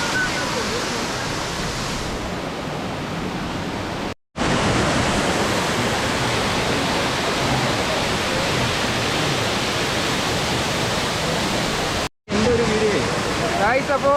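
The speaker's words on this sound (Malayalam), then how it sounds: "അപ്പോൾ വെള്ളച്ചാട്ടത്തിൻ്റെ അടുത്ത് എത്തിയിട്ടുണ്ട്." Manneera waterfall roars up close, a loud, dense and unbroken rush of falling water that fills the whole clip and is cut by two brief silent breaks.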